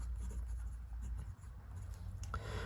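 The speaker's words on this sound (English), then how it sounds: "This is a steel, and I will write it correctly this time, medium nib." Steel medium-nib fountain pen writing with Faber-Castell Black ink, making a soft, continuous scratch of nib on paper, close up, over a steady low hum, with no talking.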